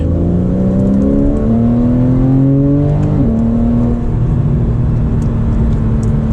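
A Porsche 991.1 Carrera S engine drones loudly from inside the cabin, its pitch stepping and sliding across several shifts as the car downshifts, with steady road rumble and no talking.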